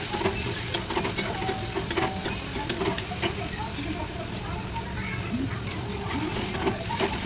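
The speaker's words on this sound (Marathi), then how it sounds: "चिरलेला 1 कांदा टाकून कांदा व्यवस्थित भाजून घ्यायचा" Chopped onion fries in a pan with spices, giving a soft continuous sizzle with occasional light stirring clicks, fairly quiet, while someone talks over it.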